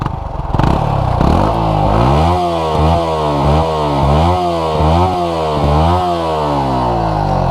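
Two motorcycle engines, a Yamaha R15 and MT15, rev repeatedly in a steady rising-and-falling pattern, loud and close, with a sharp start at the beginning and no talking.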